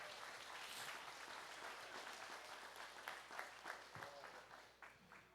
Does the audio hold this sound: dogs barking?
no